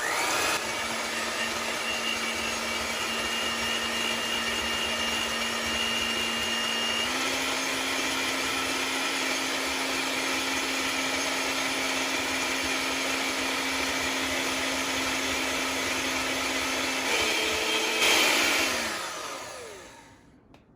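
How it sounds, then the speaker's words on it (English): An electric hand mixer whips dalgona coffee with a steady, close whirring drone that holds for around seventeen seconds. Its pitch steps up once partway through, and near the end it shifts again before winding down and stopping. "maybe another minute with a hand mixer, or with a power mixer"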